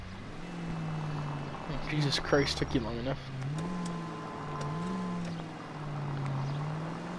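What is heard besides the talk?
car driving in the video game L.A. Noire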